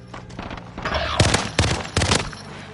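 Gunfire in Call of Duty Warzone, with a few sharp bursts of shots cracking out loud and close over a busy background of battle noise.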